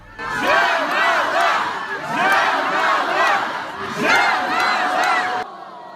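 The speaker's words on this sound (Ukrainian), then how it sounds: "Захоплена публіка хвилою овації зустрічає переможець." An excited crowd in an airport arrivals hall cheers a returning singer who has won, with loud rolling waves of shouting, whooping and ovation rising and falling over several seconds before cutting off abruptly.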